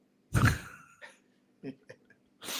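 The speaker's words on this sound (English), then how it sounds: "She's coughing upstairs." A woman coughs in another room upstairs, a heavy cough followed by a few shorter, fainter ones spread out over a couple of seconds, muffled and distant.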